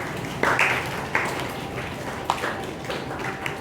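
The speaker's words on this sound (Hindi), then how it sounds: "इनके लिए तालियां हो जाए।" Scattered claps and light taps from a school classroom audience of ninth-grade students, brief and uneven rather than sustained applause, fairly faint with some background murmur.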